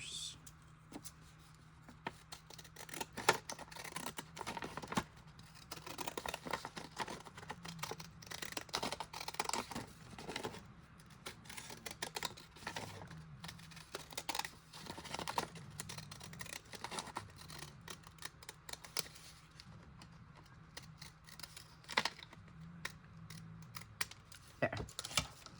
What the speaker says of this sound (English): Blue scissors.